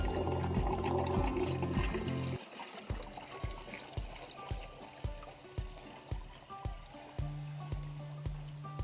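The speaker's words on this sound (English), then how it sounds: "grabbing a 5-gallon bucket of water and simply just pouring some inside the pump and filling it up" Water pouring from a 5-gallon bucket into an inground pool pump to prime it, starting with a heavy continuous gush and then breaking into rhythmic sloshing splashes and trickles, close by, with no talking.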